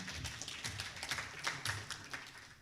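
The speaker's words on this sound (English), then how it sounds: "Clap for him." A small audience at a chemical management launch event claps in a brief, quiet, scattered burst of applause that continues for a few seconds with no talking over it.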